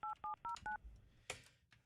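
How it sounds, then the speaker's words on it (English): Four quick touch-tone dialing beeps in a steady rhythm, clear and close, followed by a brief click or rustle and a faint tone, with no talk. "Let me get Michelle on the phone."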